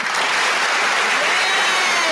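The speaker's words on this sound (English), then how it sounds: "I can give myself a round of applause on this one." A full, steady burst of crowd applause on an internet radio show, loud and continuous for a couple of seconds with no gaps and no voice over it.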